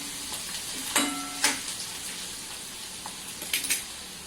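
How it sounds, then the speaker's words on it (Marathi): Chopped onion sautéing in oil in a pan for a Khandeshi moong vada curry, giving a steady soft sizzle with a few brief louder stirring scrapes and clinks. "कांदा छान गुलाबीच्या रंगावरती आपण परतून घेऊया"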